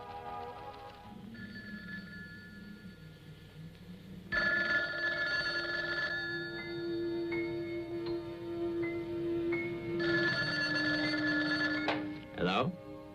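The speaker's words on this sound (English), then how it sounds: "How about that telephone up at the Butler house? Is it working? Well, try it now." An old telephone bell rings in repeated bursts of about two seconds each, separated by pauses, heard indoors under music with a brief voice toward the end.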